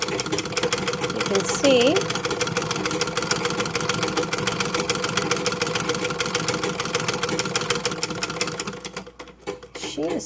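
A Singer 66 sewing machine runs steadily, its needle clattering in a fast, even rhythm close by for about nine seconds before slowing and stopping, while someone talks over it.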